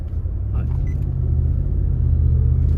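A Nissan Patrol Y62 V8 engine with bimodal cat-back exhaust in quiet mode idles or cruises with a deep muffled hum and faint intake noise, and no one speaks.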